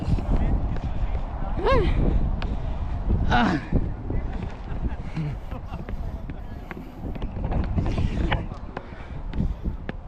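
Strong wind in Helsinki, Finland buffets the microphone in heavy gusts, rumbling and roaring throughout, while a person talks intermittently over the noise.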